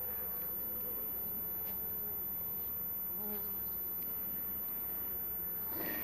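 Honey bees buzz steadily on hive frames during honey harvesting, a dense continuous drone with no voices.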